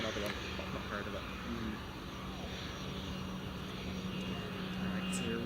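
A Global Airlines Airbus A380 taxies at Glasgow Airport, its engines giving a steady broad roar with a low hum underneath, heard at a distance while people talk over it.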